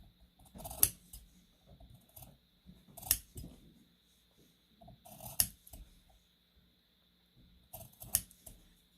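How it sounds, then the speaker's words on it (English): Scissors snipping into the curved seam allowance of sewn fabric, four crisp separate cuts spaced a couple of seconds apart with quiet handling rustle between, close and fairly soft. "Snip up to, but not through my stitching line."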